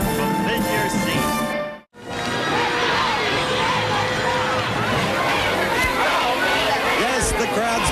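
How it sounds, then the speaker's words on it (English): Dense crowd chatter and babble at a Pepperdine University event, steady and enveloping with scattered shouts, broken by a brief near-silent dip before the hubbub swells back. "the crowd's behind us, the crowd's in front of us, the crowd's everywhere"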